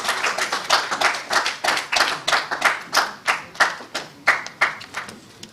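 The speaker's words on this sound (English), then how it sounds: "Give the Accountant General another round of applause." Audience at a national dialogue on contingency planning and funding applauding the Accountant General, a close, rhythmic run of about seventeen sharp claps, steady in pace and loudness, fading slightly at the close.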